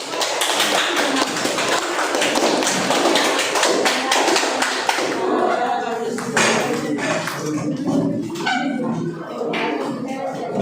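Classroom applause for a group that has just presented, a dense stretch of many hands clapping that fills the room at steady loudness, thinning slightly toward the end with some shuffling.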